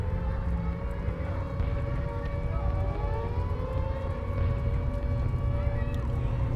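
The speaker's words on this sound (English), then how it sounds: "Sirens like that are the single most terrifying thing." A warning siren wails in long, wavering tones over a low rumbling background, fairly faint and distant, with rising and falling pitch sweeps layered across the whole clip.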